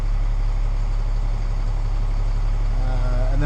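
A truck engine idles steadily up close, a loud constant low rumble that barely changes throughout, with no voices.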